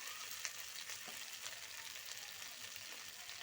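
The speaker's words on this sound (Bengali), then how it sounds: "আলু আর ওলকপি খুব ভালো করে মশলার সঙ্গে কষিয়ে নেব।" Potatoes and kohlrabi fry with spices in a pan while cooking a kohlrabi and katla fish dish, a steady close sizzle with occasional stirring scrapes, no speech.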